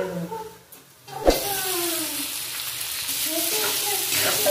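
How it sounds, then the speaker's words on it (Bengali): Boiled pasta tipped into a hot pan and stirred, a brief dip then a sudden clatter as it lands, followed by loud continuous sizzling and scraping close by, with faint background voice. "এখন পাস্তাগুলো দিয়ে দেবো"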